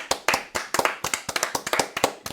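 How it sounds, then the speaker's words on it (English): A small group claps through a round of applause at the end of a sports talk show, a quick uneven burst of close, sharp handclaps with no voices. "Let's give it a round of applause."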